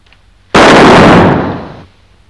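A single loud, sharp gunshot from a cowboy film rings out and decays over about a second, alone against quiet background.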